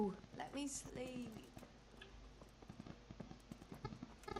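Horse hooves clip-clop at a steady walking pace in the medieval video game Kingdom Come Deliverance. The hoofbeats are faint and regular, with a voice speaking briefly over the start.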